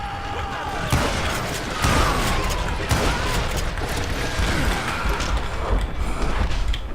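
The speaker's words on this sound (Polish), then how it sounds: "Tu moje strzały tak wybuchają," Rapid bursts of gunfire and exploding barrels in the video game Call of Juarez: Gunslinger, loud and close, over a dense clattering mechanical backdrop.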